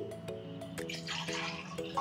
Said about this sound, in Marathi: त्याच्यामध्ये आता आपण डाळ भिजेल एवढं आपल्याला आता पाणी घालायचं आहे।